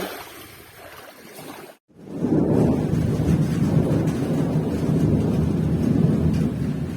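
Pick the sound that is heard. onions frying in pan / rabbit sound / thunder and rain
thunder and rain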